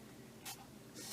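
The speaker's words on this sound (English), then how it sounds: "spray it." Two short bursts of hissing mist from a spray bottle wet a water painting, each about a tenth of a second, close and soft over a steady low room hum.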